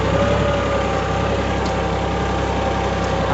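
A tractor engine runs steadily while pulling a nine-tine seed box that sows onion seed into raised beds in a field, giving a continuous, fairly loud rumble with no break.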